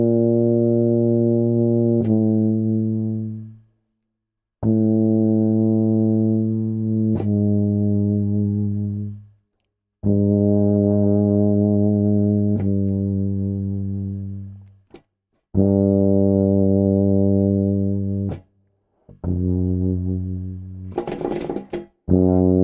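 A trombone or euphonium plays a series of long, low, sustained notes, each starting softly and fading away into nothing, with short pauses between them.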